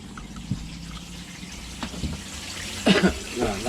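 Hot water runs from the tap in a Talbot Express camper, a steady low splashing flow up close with a brief spluttering burst toward the end.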